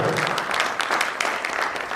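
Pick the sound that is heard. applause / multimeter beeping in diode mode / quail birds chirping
applause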